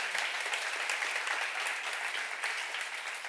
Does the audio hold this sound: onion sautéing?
no